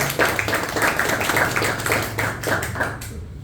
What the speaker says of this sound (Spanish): Pido un fuerte aplauso otra vez para Juan.